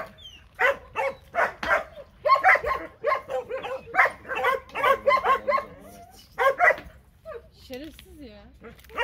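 A dog barks in quick, repeated bursts, loud and close, then gives a few whining yips near the end. People's voices are mixed in with the barking.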